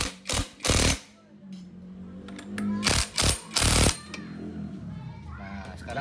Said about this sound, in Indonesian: Baru kita kencengin pakai impact.